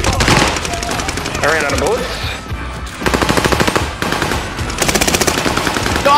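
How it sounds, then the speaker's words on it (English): Rapid automatic gunfire in the video game Warzone, bursts of machine-gun shots in quick rhythmic volleys with pauses between, loud and close, while players talk excitedly over it. "Someone's shooting you, oh my god."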